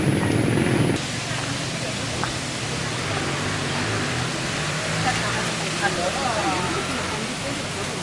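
Rushing water from the Guru Gemurai waterfall roars as a dense, steady hiss heard from its parking area, loud and unbroken throughout with a brief louder burst at the start and faint background noises.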